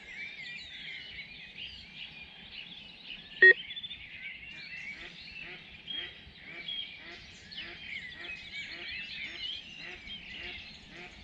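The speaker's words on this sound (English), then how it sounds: "ducks again." Ducks quack and chatter at a lake in the quiet early morning, soft repeated calls with a single sharp click partway through.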